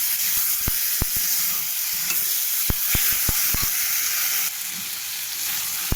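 A spiced dish is sautéed and stirred in a pan: a constant hissing sizzle up close, punctuated by a series of sharp utensil taps and scrapes, with no talking.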